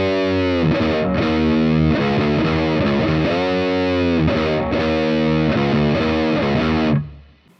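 Heavily distorted electric guitar plays the big, fat main riff of a song twice, loud and sustained with chugging repeated notes, alone with no talk, then cuts off abruptly near the end.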